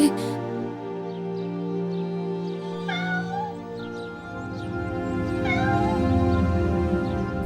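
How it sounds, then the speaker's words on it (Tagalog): A cat meows repeatedly in falling snow, with drawn-out, wavering cries that come in two clear bursts over a steady sustained musical background. "Naku po, kaninong pusa ito?"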